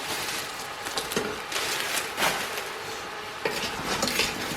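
Carrots with peas being mixed in a pan: steady scraping and rustling of a utensil through the vegetables, with periodic louder clinks against the pan and a faint sizzle underneath, close and continuous.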